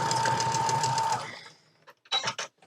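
A sewing machine stitches steadily through thinned cotton fabric for about a second, then stops; a few brief handling knocks and rustles follow nearby.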